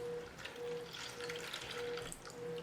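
Milk poured into a small bowl of eggs for a simple fluffy cake batter, a steady close liquid splash running throughout over a faint hum.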